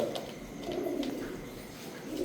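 Soft, low pigeon cooing at a pigeon market, repeating over a quiet background hum, fairly faint and unhurried.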